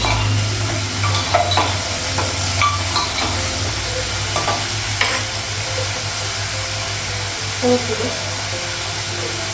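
Pointed gourd and green chillies fry in oil in a pan over a gas flame, a loud continuous sizzle with a low steady hum beneath and occasional scrapes and clinks of stirring.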